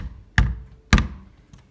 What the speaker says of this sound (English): tap in that marking hole so our drill bit has somewhere to lead into.